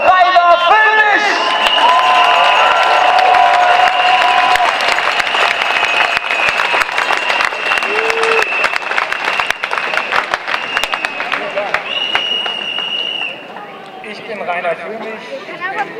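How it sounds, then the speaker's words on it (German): A large outdoor crowd at an anti-Corona-measures demonstration in Berlin applauds and cheers loudly and continuously, with whistles and horns and voices over an amplified speaker, easing slightly near the end. "Einen detaillierten Applaus für den Anwalt für Aufklärung"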